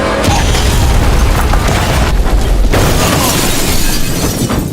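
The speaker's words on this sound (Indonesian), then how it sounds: "ledakan barusan menghabisi semua musuh yang mengejarnya" A loud, sustained explosive roar with crackling debris and deep rumbling fills the scene, with a brief dip before another surge.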